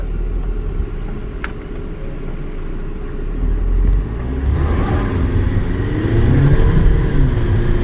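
A 2013 VW Jetta TDI wagon accelerating in sport mode, heard from inside as a low diesel engine rumble that swells as revs climb, steady and close with road noise.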